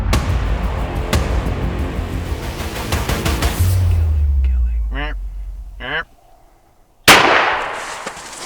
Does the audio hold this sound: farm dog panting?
no